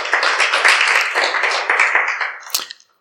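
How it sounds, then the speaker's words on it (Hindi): An audience at a live event in Lucknow claps together, a dense, steady burst of applause held for about two and a half seconds before fading out, with a few louder claps near the end. "एक बार आप लोग कारवां के लिए तालियां बजा दीजिए"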